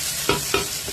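Potatoes and onion frying in a pan, giving a steady close sizzle with two brief louder stirring scrapes and a fainter third near the end; no talking.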